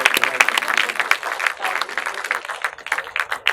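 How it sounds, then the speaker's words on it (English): Applause from an audience at a talk on using social media to boost sales, a dense patter of clapping that runs for a few seconds at steady loudness before thinning slightly toward the end. "A round of applause for her."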